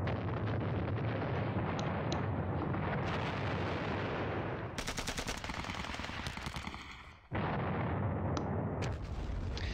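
Anti-tank guns firing in the Normandy wargame Battles of Normandy produce a dense, sustained roar of gunfire with rapid rattling bursts midway, a sudden cutoff, then the barrage resumes loudly.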